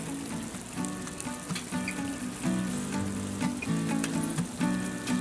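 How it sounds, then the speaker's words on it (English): Seafood paella simmering in broth in a 14-inch Lodge cast iron pan gives off a steady, close bubbling sizzle with soft crackles and pops throughout, and no voices. "we'll let that finish up, and it'll steam all of that to perfection"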